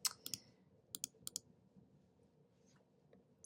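Sharp computer keyboard clicks in quick bursts, a few clustered keystrokes with pauses between, close and fairly quiet in a still room.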